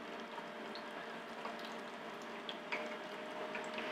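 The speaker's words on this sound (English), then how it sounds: "Drop that egg in. You'll see it start to bubble as it heats up." An egg frying in a hot pan, giving a soft, steady sizzle with faint crackles and pops close by.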